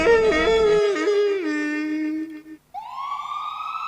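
An ambulance siren in a Hindi animated cartoon, a loud wailing, pitch-bending tone that cuts off and then restarts with a rising sweep.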